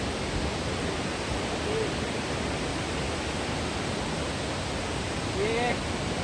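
Tinuy-an Falls roars as a dense, constant hiss of falling water that fills the whole stretch at an even level, with faint voices barely showing through.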